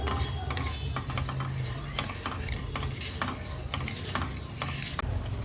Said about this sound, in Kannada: ನೀಟಾಗಿ ಮಿಕ್ಸ್ ಮಾಡ್ತಾ ಪಾಕ ತಗೊಳ್ಳೋಣ.